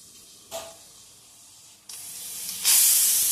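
A pressure cooker cooking rice releases steam in bursts, with a short hiss, then a longer building rush ending in a loud, bright whistle-like blast, with no voices.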